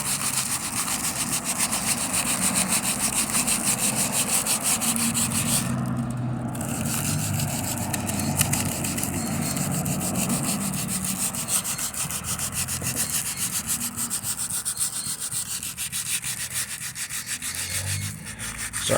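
Sanding the body of a 1951 Chevy Deluxe car by hand, a steady loud rasping rub that continues almost unbroken for the whole stretch, with a short pause in the middle and no talk.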